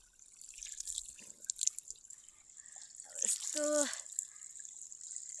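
Water from a natural spring spout drips and trickles softly in the early morning, with a brief voice and a faint rising tone partway through.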